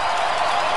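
Brief wash of applause from a crowd celebrating a performer, dense and steady throughout.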